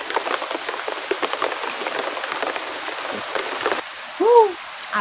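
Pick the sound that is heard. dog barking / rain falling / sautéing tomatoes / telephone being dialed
rain falling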